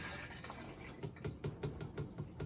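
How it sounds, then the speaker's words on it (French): Liquid pours quietly into a measuring cup, a soft trickle with a few faint splashes and glugs near the end, close and low in level while a vegan gluten-free red velvet cake is being prepared. "Je verse dans le verre doseur."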